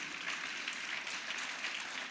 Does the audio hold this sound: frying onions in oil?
no